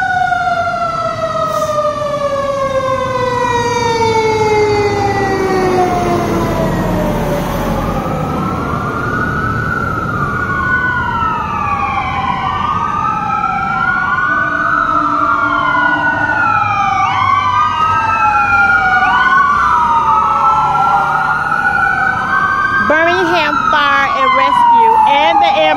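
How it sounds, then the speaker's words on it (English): An ambulance siren wails and yelps through a Birmingham street, loud and continuous with rising and falling sweeps, passing close with traffic rumbling underneath. "And there's an ambulance."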